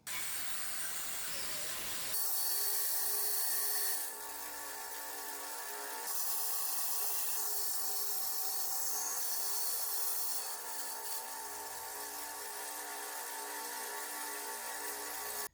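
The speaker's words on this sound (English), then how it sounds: "I think we're ready for the bandsaw. And nothing fancy here, just a small bandsaw." A small bandsaw with a weak motor cuts pallet wood, giving a steady whirring drone that rises into harsher sawing stretches as the blade works through the boards, close and continuous.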